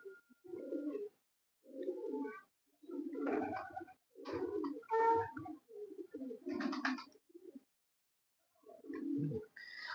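Pigeons coo softly in a series of low, throaty, rolling calls that come in separate phrases with short gaps, fairly quiet and nearby, and a few higher chirpy notes are mixed in.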